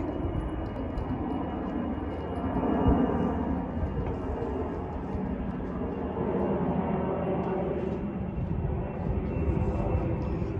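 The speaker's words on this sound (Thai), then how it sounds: "เสียงเครื่องบินบินผ่านค่ะ" A steady, broad roar of an airplane passing overhead near an airport, swelling gently and then holding for several seconds at moderate distance, heard from a pine forest.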